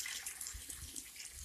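Naturally chemical-free spring water drawn from 800 feet underground runs from a tap in a steady, soft, continuous splashing stream, heard alone at close range.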